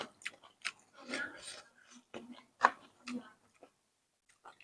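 Soft, crunchy chewing of soft shellfish comes in irregular bursts close to the mic, with short quiet gaps between bites.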